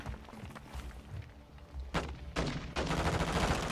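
Enemy army gunfire in Call of Duty Modern Warfare 2, in a cartel-protection mission among mountains: steady rumbling engine noise under a few sharp shots, building into louder sustained bursts of fire, with no voices.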